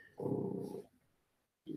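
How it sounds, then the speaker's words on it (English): A dog lets out a low, rough woof-growl at close range, falls quiet briefly, then starts a second short growl. "You stop that woofing."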